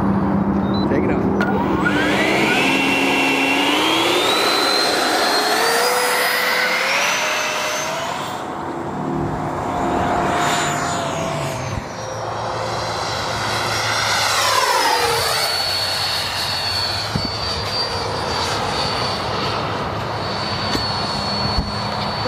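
A modified Blue Angels RC jet flies passes overhead, its engine whine steady and loud, sweeping up and down in pitch as it banks through turns, with voices now and then.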